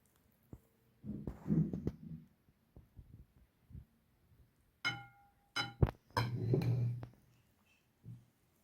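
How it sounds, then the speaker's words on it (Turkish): Börek dough for a hand-rolled pastry is kneaded by hand on a floured counter. Dull thumps and soft squishy pressing come in two short clusters separated by quiet, close and moderately loud, with no talking. "iyice yoğurdum hamurumu tezgahıma aldım"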